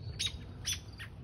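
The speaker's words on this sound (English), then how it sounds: "Those birds are being annoying to that owl." Small birds squawk at an owl outdoors, three sharp harsh calls spaced about half a second apart over a low background rumble, moderately near and with no talk.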